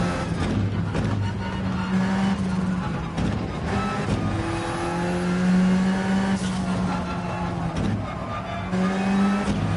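Alfa Romeo race car in Gran Turismo 7 roaring through a sustained engine drone that rises and falls with gear shifts and revs, steady and close with no talk over it.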